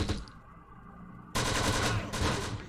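Machine gun fire in the wartime strategy game Close Combat: The Bloody First, a rapid rattling burst that kicks in abruptly and holds loud for over a second, with a fainter sustained texture before it.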